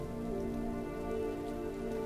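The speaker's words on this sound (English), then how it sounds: "let's wait out the rain in the booth" Steady rain in the video game Road 96 patters continuously on a surface, a dense even hiss with faint droplet detail throughout.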